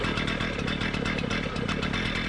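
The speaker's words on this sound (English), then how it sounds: "And then when it comes time to start the engine," Demo saw engine running steadily at close range, a loud continuous two-stroke buzz with a rapid even pulse and no voices.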